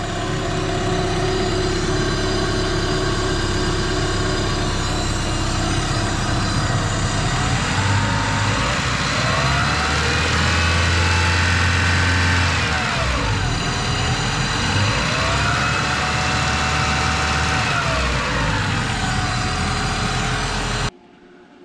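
A car engine idles steadily while warming up, a loud close rumble holding an even drone for about twenty seconds with slight pitch swells midway before cutting off abruptly.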